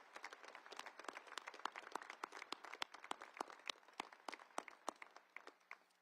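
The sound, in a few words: audience applause at Air Force Academy commencement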